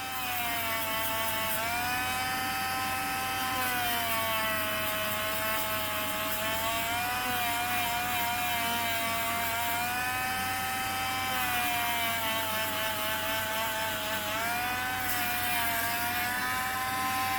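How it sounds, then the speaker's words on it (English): A Dremel rotary tool carves into a foam dragon helm, a steady high motor whine with slight pitch wobbles as the bit loads against the foam, continuous and close, with no talk. "I'm still just going to Dremel it just a bit"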